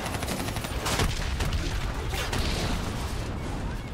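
Dense gunfire rattles through a battle in Call of Duty: Black Ops 3, with rapid bursts and booms layered over constant combat noise, loud and close.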